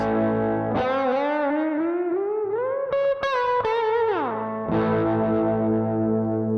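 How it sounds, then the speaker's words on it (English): Distorted electric guitar with chorus-like effects plays sustained, vocal-sounding bends that glide steadily higher as it travels up the neck, with a few quick note jumps, a falling slide, then a fresh ringing note, loud and alone with no talking. "it also sounds good if you kind of travel up the neck."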